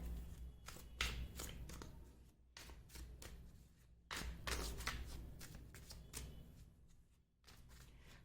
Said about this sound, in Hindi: मैं कार्ड्स आपके सामने ही शफल करूंगी